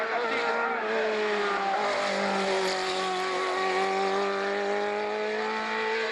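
A BMW-engined race car accelerates hard, its engine holding a loud, sustained whine that climbs steadily in pitch across the clip with no break.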